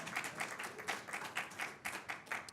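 Scattered clapping from a small audience at a conference session, distinct individual claps in an uneven rhythm of roughly a dozen hits, fairly faint and slightly distant.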